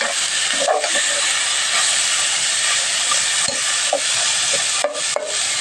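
Papaya and flaked fish simmering in coconut milk, a continuous hissing bubble with occasional soft scrapes and knocks of a spoon stirring the pot, close and fairly loud.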